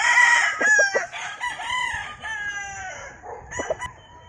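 A black-legged hini gamefowl stag crows with a rooster's drawn-out calls, loud and close, with a few clucks and other fowl around it in a farm setting.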